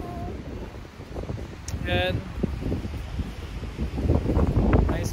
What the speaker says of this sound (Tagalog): Ito malakas po rin ang hangin.